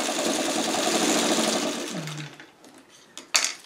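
A sewing machine stitches quilt pieces for a paper-pieced churn dash mini quilt. It runs in a steady, fast whir for about two seconds, then stops, followed by a few sharp clicks and handling noises.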